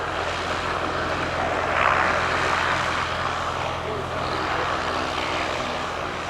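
BAC Strikemaster Mark 80A jet flying in a pair display at the Duxford Summer Airshow 2022, a steady broad engine roar that swells slightly near two seconds and stays loud and continuous throughout.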